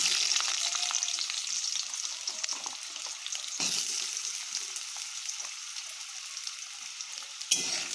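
Potato pieces frying in hot oil with a pinch of black cumin, a steady close sizzle running throughout with occasional stirring scrapes and a brief sharp clatter near the end; no talking.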